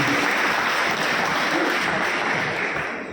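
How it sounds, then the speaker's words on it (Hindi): Applause from a crowd at a local award ceremony for rifle shooting achievers in Najibabad: dense, sustained clapping that fades slightly toward the end, loud and close, with no talk over it. "एक ज़ोरदार ताली आप मेरे मीडिया को भाइयों दी"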